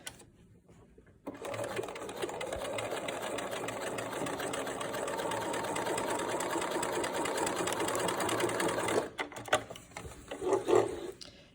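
A sewing machine stitches a scant quarter-inch seam on a two-colour fabric face mask, running as a steady close whirring buzz for about eight seconds before stopping, followed by a few small handling clicks.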